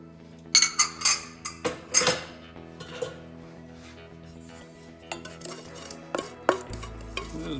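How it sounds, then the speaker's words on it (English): Spoon clinking and scraping against a dish as oil and thyme are stirred together, a run of sharp close metallic taps followed by quieter scraping, with a low hum underneath. "Just mix it up a little bit here."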